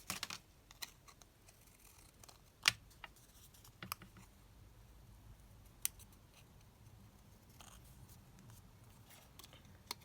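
Scissors cut out a piece from a paper craft kit, with soft snips and scattered crisp clicks of the blades at irregular intervals, close and quiet with no talking.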